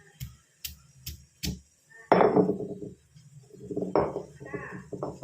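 Ingredients for a sweet potato dish being crushed by pounding, with several sharp knocks followed by heavier crunching pounding strokes, close and fairly loud.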